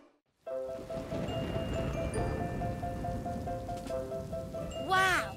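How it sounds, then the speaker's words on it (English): Steady rain comes in after a moment of silence and patters on surfaces throughout, with a sustained musical tone underneath and a brief rising vocal sound near the end. "Wow, it's really raining out there, isn't it?"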